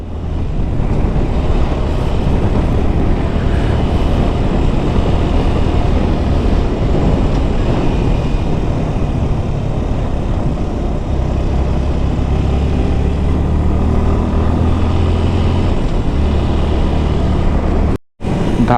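A 1200cc off-road touring motorcycle being ridden, likely on a rough road, makes a loud, constant engine roar mixed with heavy wind rumble, steady throughout with a brief dropout near the end.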